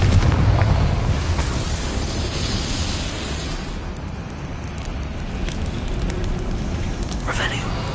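A Confringo spell in Hogwarts Legacy bursts with a loud fiery explosion at the start, then a crackling, roaring tail that fades into game ambience, with a brief sharp magical flare near the end.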